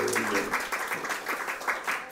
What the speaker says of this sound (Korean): 박수 한번 치셔야 될 것 같은데